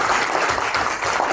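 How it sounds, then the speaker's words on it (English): Audience clapping loudly and continuously for a presenter at an educational session, a thick, close wash of many hands without a break. "Guys, can we have a round of applause for her?"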